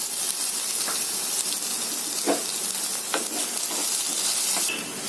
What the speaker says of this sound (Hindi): पनीर को भी हम थोड़ा सा फ्राई कर लेते हैं